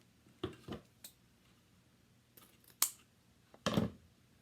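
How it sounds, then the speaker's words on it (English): Scissors snip through ribbon being cut to length for a bow, a handful of separate crisp cuts spaced irregularly, close and fairly quiet with no talking. "So I'm going to cut these right about here."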